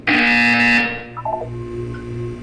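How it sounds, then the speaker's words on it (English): A loud, harsh buzzer from the video game Portal 2 blares for under a second, then cuts off into a short descending electronic tone sequence over a low hum. "You will hear a buzzer."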